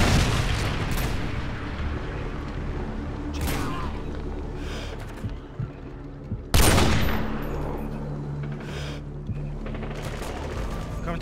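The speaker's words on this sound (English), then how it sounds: "Friendly predator missile inbound." In Call of Duty Modern Warfare, a predator missile strike lands among sustained gunfire, with a dense, loud barrage of shots and a sharp heavy boom partway through over continuous rumbling battle noise.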